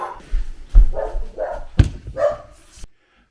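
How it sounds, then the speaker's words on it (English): Female dog in a home workshop barking repeatedly, about five close loud barks in an uneven rhythm, some sharp and yippy, ending abruptly into quiet. "she barks when any other dog barks in the neighborhood"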